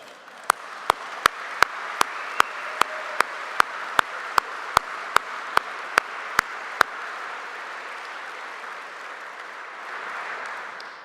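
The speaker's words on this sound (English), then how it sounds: "you can clap for them" Crowd applause for the airmen at a Vermont Air National Guard F-35 arrival ceremony, steady and sustained for about eleven seconds, with a run of sharp, evenly spaced clicks or claps over the first seven seconds.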